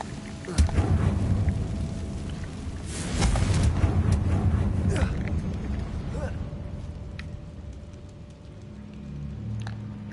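A fiery Confringo spell explosion in Hogwarts Legacy, a deep booming burst followed by rumbling roar and lingering crackle, fairly loud, with a second swell of rumble and softer game sounds trailing after.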